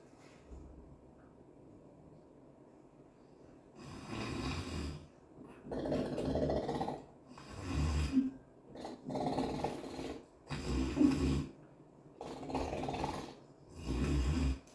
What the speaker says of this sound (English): Am I snoring?